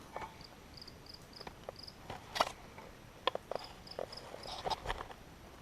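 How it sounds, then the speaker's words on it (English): Cricket hidden inside a house ceiling, chirping in short repeated trills, faint and muffled with irregular pauses, alongside scattered soft clicks and knocks in a quiet room. "to sit there and have this cricket somehow in our ceiling."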